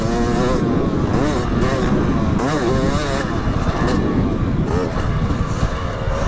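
A motocross motorcycle engine runs and revs close by, loud and continuous with rising and falling pitch, while people talk over it.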